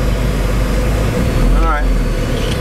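A 1989 Alfa Romeo Spider engine runs at a steady, close idle as the clutch is let off, a brief rising whine sweeping through partway along, with a faint voice in the background.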